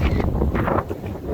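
Strong wind blows outdoors in Maine on a cold, wet late-July day, a brief, loud rumbling buffet across the microphone with uneven gusts.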